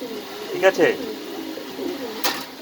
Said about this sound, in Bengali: আমার কাছে অনেক কবুতর আছে মাস্টার পেয়ার